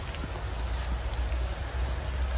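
Rain falling steadily at a fishing spot, a continuous even hiss with a low rumbling undertone and no clear breaks.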